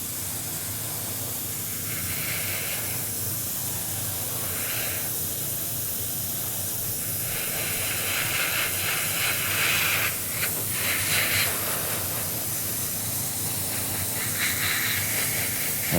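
An airbrush sprays thinned paint onto a Tamiya Panther Type G model tank, a steady close hiss of air throughout, with soft intermittent bursts of brighter spray as the trigger is worked.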